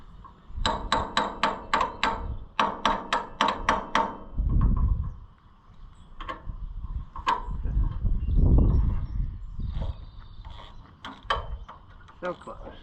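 A rapid series of sharp metallic hammer strikes on a part of an Oliver 60 tractor rings out in quick bursts, followed by scraping, clunking and a few more scattered blows nearby.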